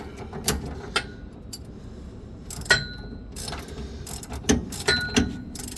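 Bolts being tightened on a steering drag link adapter during a manual steering conversion, heard as several sharp metallic clicks and ratcheting clanks, close and intermittent, with no talking.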